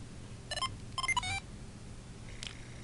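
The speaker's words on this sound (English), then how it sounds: "the little beeps are the two Cybikos detecting each other in a wireless network" Several short electronic beeps in quick clusters from two Cybiko handheld computers detecting each other over a wireless network, fairly quiet over a low background hum, followed by one more faint tone.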